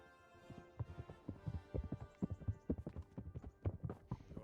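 Horse hooves clip-clopping in Kingdom Come: Deliverance, a steady run of close, distinct hoofbeats on hard ground with an uneven walking rhythm, clearly heard alone at moderate volume.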